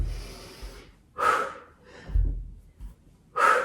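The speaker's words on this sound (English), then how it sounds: "Nice noisy exhales." Forceful, noisy exhales during a yoga HIIT workout come as three sharp, breathy bursts with quiet gaps between them, close and fairly soft.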